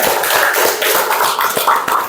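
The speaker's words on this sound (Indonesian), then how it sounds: "Tepuk tangan dulu." Students in a classroom clap together in a quick, dense patter of many hands that holds fairly loud and even for a couple of seconds, with no talking.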